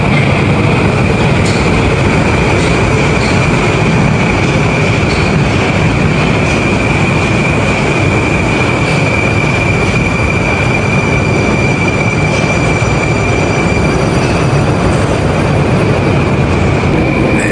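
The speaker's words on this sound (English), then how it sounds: "That's my train." Loud, continuous roar of a Moscow metro train arriving at a station, with rumbling wheels, a steady high-pitched whine, and faint rhythmic clacks, close by and filling the space.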